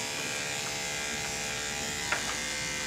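Close electric dog grooming clippers buzzing steadily with a constant motor hum, one small clack partway through.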